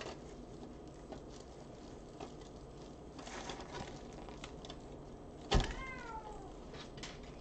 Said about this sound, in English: You guys heard him meow.